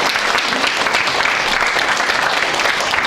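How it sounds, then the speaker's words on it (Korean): Audience applause at an anniversary ceremony of a presidential memorial society, dense steady clapping from a seated crowd, loud and sustained for the whole stretch without speech. "여러분 응원의 박수 보내주세요."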